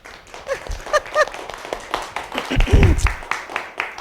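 Scattered, uneven clapping from a small audience after a storyteller finishes a tale, mixed with voices and chatter, moderately close.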